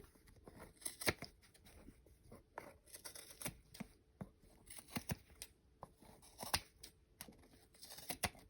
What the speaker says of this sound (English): I'm just going to cut as close to that back seam as I possibly can